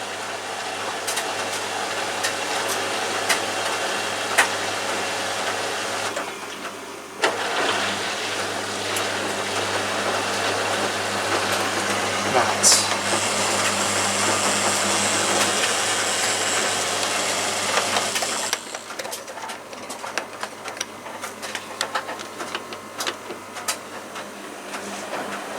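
Washing machine running its wash cycle with a raspy fault, giving a steady rough churning and grinding drone with faint clicks throughout, close and continuous, with no talking.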